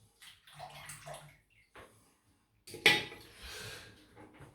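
Cold tap water runs in short splashing bursts during a wet shave rinse, with a pause and then a louder, gurgling stream close by, with no talking.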